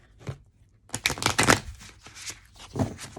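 Oracle cards being shuffled by hand, a dry papery riffle in several quick bursts, close and fairly quiet, with no talking.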